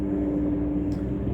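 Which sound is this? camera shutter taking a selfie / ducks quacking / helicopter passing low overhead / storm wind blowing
helicopter passing low overhead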